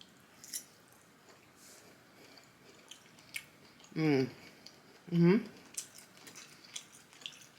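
Someone takes a bite of hasselback caprese roasted eggplant, with faint soft, moist chewing and smacking close to the mic. Two short voiced hums or murmurs break into the chewing.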